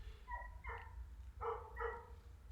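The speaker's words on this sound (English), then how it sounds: "Can you guys hear the dogs?" The neighbours' dogs bark a few times next door, faint and distant, with short yips and barks over a low steady background hum.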